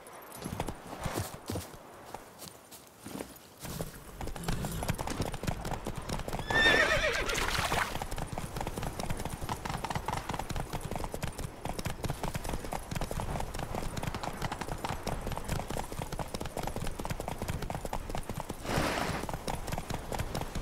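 Horse hooves clip-clop steadily throughout while a horse neighs loudly around the middle, from riding in The Witcher 3: Wild Hunt, Blood and Wine expansion.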